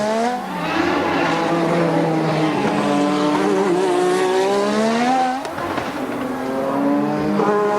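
Nelson Piquet's Formula One car on a qualifying lap at the 1986 Australian Grand Prix, its high-pitched turbo engine screaming steadily close by, rising through gears with a brief dip and shift before climbing again.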